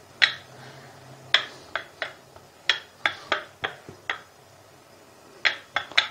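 A wooden rolling pin clatters against a board while a paratha is rolled out. The knocks come in irregular bursts, clear and close, with quiet gaps between them and no voices.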